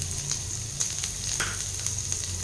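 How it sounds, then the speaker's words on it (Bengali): Chopped green chilli and garlic hit hot oil and fry with a close, dense, steady sizzle, plus a few light stirring taps and a low background hum. "তো আমার তেলটা গরম হয়ে গেছে, আমি এবার লঙ্কা রসুন কুচিটা দিয়ে দিচ্ছি।"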